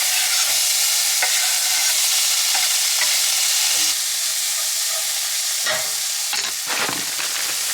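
Eggs frying and being stirred in a pan for a breakfast burrito: a constant close sizzle with repeated scraping and stirring strokes, no voices.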